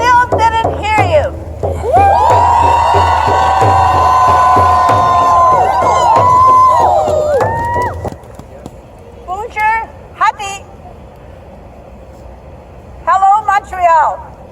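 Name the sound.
crowd cheering and making noise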